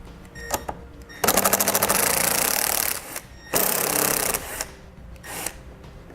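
A 7/16 wrench and socket remove the mounting bolts holding a 6-way connector to the front of a vehicle, heard as close, loud bursts of rapid ratcheting clicks separated by short pauses and softer clicks, with no talk.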